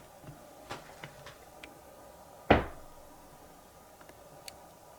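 A single sharp knock rings out in an apartment, loud and close with a short decay, amid a few faint ticks and taps in an otherwise quiet room.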